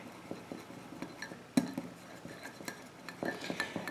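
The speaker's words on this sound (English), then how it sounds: "So just go ahead and get that nice and whisked in." Melted chocolate whisked in a bowl for homemade candy bars, heard as soft, quiet scraping and light clinks of utensil on the bowl, with one sharper knock partway through and no voices.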